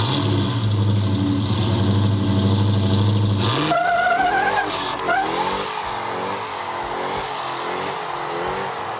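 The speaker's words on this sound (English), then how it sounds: "First gear, second, there's the supercharger kicking in." Car fitted with a supercharged Hellcrate 707 horsepower engine and a six-speed manual transmission, loud and close as the engine revs hard, shifts with a break around three seconds, then pulls on with a rising supercharger whine.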